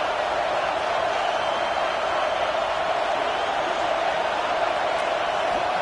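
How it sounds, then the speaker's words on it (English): A packed football stadium crowd roars with a dense, continuous wash of cheering and noise early in a game, steady and loud throughout with no distinct voices standing out. "This crowd bringing the energy and noise early."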